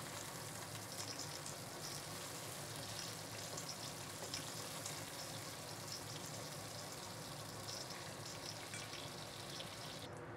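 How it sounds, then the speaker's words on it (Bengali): Pieces of fish fry lightly in oil, giving a faint, steady, even sizzle that runs without pause and without any talking. "এখন আমি মাছগুলো উল্টে দিব, উল্টে অপর পাশটাও একটু হালকা ভেজে নেব।"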